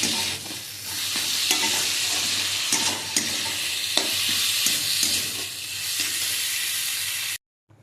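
Hot water poured into dal in a hot cooking pot, giving a loud, close, continuous sizzle and bubbling hiss with some stirring scrapes, ending abruptly, with no talking.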